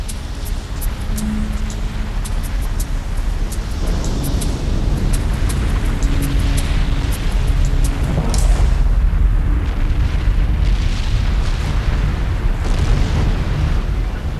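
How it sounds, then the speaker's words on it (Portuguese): Continuous loud roaring rumble with bursts of deep booming explosions, a volcanic island erupting heard close and without any voices. "a ilha finalmente se abre à força, numa série de explosões gigantescas."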